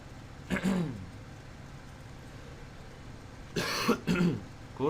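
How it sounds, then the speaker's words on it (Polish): Two short bursts of coughing in Farming Simulator 15, close and fairly loud over a low, steady engine rumble. "to jest kaszel, nie katar"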